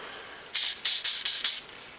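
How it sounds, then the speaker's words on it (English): Five quick hissing bursts of spray cleaner into a Glock pistol frame, each a short sharp spritz separated by brief pauses, close by in a quiet room. "I will actually spray the inner portion"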